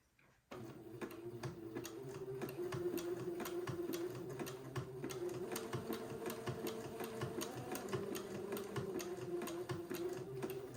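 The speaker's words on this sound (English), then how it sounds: "this is going to take me a minute to get this whole seam zigzag" A sewing machine runs a zigzag stitch along a seam of a white button-on suit for a boy. Close and steady, it gives a fast, even needle clatter with a motor hum underneath, running continuously without speech.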